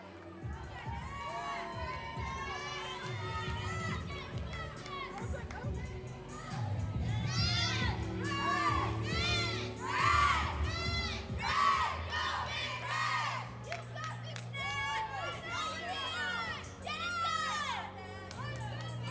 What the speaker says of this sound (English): You can hear Cornell doing a little pre-routine cheer